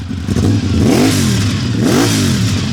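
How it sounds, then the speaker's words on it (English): A 1987 Honda VFR700F Interceptor V4 engine with a 4-into-1 Yoshimura exhaust revs hard twice in quick succession, a deep throaty note rising and falling, close and loud with no talking. "Listen to this exhaust note."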